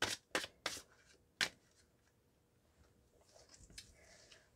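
A Haunted House tarot card deck is shuffled by hand, giving several sharp, loud riffling bursts at the start, followed by quieter, softer shuffling and card handling toward the end.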